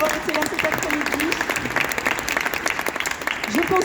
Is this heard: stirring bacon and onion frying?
no